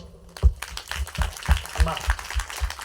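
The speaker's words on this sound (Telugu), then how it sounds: "నీకు నిజంగా దేవుని యొక్క ఆరోగ్యం కావాలంటే గట్టిగా చప్పట్లు కొట్టు" A church congregation clapping loudly and steadily in rhythm at a village feast, with a voice talking over the claps.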